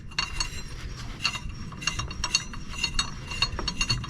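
A metal pulley is slid and twisted onto a shaft, giving close, scattered metallic clicks and ratcheting clinks over a low rumbling background.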